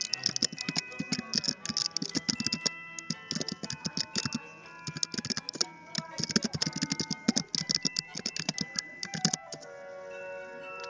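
An Apple ID and password typed on a computer keyboard, a long run of quick, uneven key clicks close to the mic with brief pauses, with no speech.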